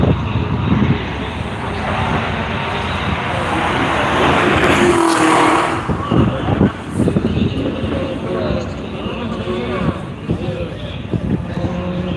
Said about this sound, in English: Looks like the Porsche has passed the BMW at the conclusion of their second lap.